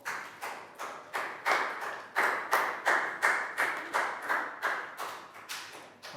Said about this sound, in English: Big round of applause for Bangpon.